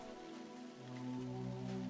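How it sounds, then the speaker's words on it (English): Rain falls steadily, a soft, continuous patter on surfaces that swells slightly toward the end, heard alone without any voices. "The rain struck Ethel's scalp"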